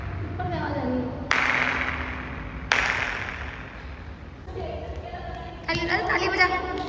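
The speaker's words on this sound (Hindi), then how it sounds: "ताली बजा, ताली बजा जोर से, ताली।" People clapping their hands at a Hindu temple in Gujarat, heard as a few sharp, loud claps standing out over a background of voices and crowd murmur.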